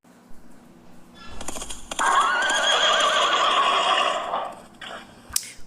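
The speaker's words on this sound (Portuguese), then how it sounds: "mas o cavalo do Alexandre o Grande é muito lindo" A horse, presented as Alexander the Great's steed Bucephalus, lets out a loud, wavering whinny lasting a couple of seconds, preceded by snorting and a few hoof clip-clops, with a sharp knock near the end.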